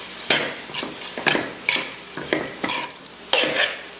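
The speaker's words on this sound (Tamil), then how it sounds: "அடுத்து இந்த சேவையை இதில் சேர்த்துருவோம்." Vermicelli being stirred in a hot pan on the stove for a home iftar dish, with a series of scraping, rustling strokes and light clinks of a utensil against the pan, close and fairly loud, no talking.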